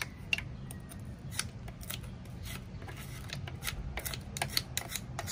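Caked-on grime is scraped off a 150 scooter motor with short, dry, rasping strokes. The strokes come in irregular bursts, fairly quiet and close, over a low background rumble.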